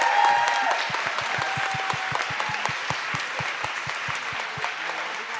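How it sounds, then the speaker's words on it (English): Sustained audience applause at a book event, with dense steady clapping and a few sharper individual claps standing out, moderately loud and evenly spread throughout. "Let's give them another round of applause."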